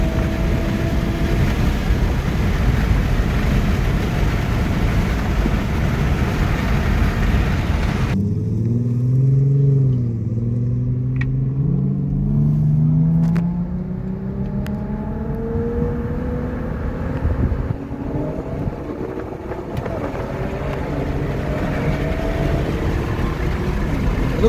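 A Camaro SS and an Infiniti G37 racing side by side, loud engine roar with rising gear-by-gear revs and shifts, the pitch climbing repeatedly as the cars pull away into the distance.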